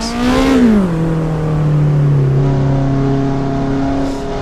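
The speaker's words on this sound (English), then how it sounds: "the engine sounds completely different, of course. This is a 2 liter" A 2-liter car engine revs in the racing game Assetto Corsa Evo: a quick loud rise in pitch, then a drop settling into a steady, strong drone that holds before fading slightly at the end.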